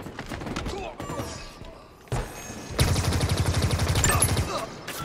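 Rapid automatic gunfire from a weapon in the shooter Halo Infinite during multiplayer, with a steady burst of loud, evenly spaced shots after scattered earlier impacts and some game sound.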